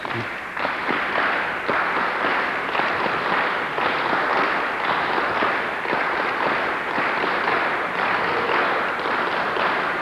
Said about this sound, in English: we clap in unison, we're black, and everybody clap together